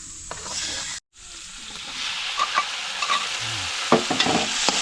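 Food sizzles steadily in a pan for about five seconds, with a short silent gap near the start and scattered stirring scrapes and clinks over the hiss; no one speaks.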